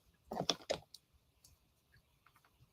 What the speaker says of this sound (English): Typing without readers on. Hello, that's me right now.